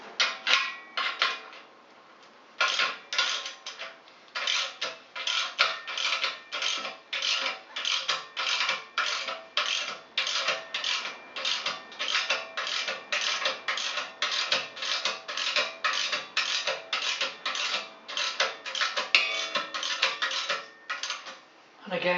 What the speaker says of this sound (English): So suitably armed with the correct spanner and socket, 19mm.